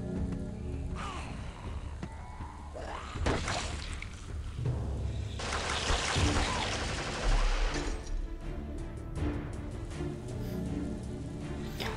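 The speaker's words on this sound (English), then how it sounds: "Man, this sound effect is awesome on this weapon" Daryl's assault rifle in the video game TWD No Man's Land fires in clustered bursts of gunfire mixed with heavy, dense game effects and ambient noise, loud and continuous.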